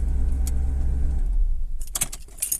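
Keys jangle in the ignition of a retro Mercedes fitted with a StarLine M66 immobiliser, then a short burst of engine cranking comes close and loud, with the motor settling into a low rumble.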